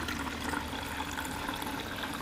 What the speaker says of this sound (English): You can see it's mostly pure water coming out